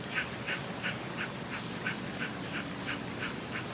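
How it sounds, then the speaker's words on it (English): Rapid Kundalini-style breathing, a quick steady run of about eleven sharp, evenly spaced breath pulses per few seconds, close and moderately loud, with no talking. "a person who practices this breathing from Kundalini, they really get a sense of breathing really quickly"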